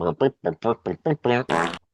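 A voice imitates a fart sound in a rapid string of about eight short, buzzy, close blurts, the last one longer and harsher.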